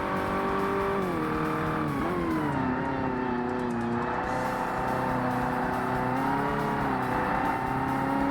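A tuned Pontiac GTO race car accelerates in the Forza Motorsport video game, a steady loud engine roar that climbs and then drops at a couple of gear changes, continuous and close with no voices.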